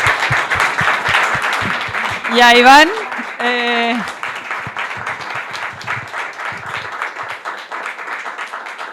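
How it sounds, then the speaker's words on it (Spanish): Audience applause at the close of a Spanish-language talk about Andrés Bello, steady clapping running under a man's speech throughout, with a brief louder tonal sound partway through. "Demos un aplauso"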